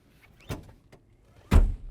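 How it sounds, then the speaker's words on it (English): A rear seat back in a 2008-2012 Honda Accord is flipped up and locked into place, giving two distinct clunks about a second apart, close and fairly loud, with a faint rustle between them and no talking. "Now you can go ahead and flip up your seat."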